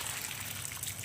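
Water trickles steadily and softly from the drain of an NFT hydroponics setup, a brief continuous dribble with no voices.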